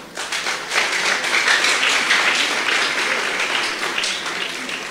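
Applause from a wedding congregation at a church in Sansiguan Centro, Cunén, a steady dense clapping that fills the space at moderate loudness and holds evenly for the whole stretch with a faint murmur beneath.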